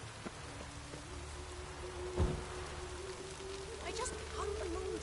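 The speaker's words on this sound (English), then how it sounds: "Rain doesn't bother you, it seems." Steady rain falls in The Witcher video game, a constant soft hiss with a low rumble beneath it, one brief louder thump partway through, and a faint voice in the background.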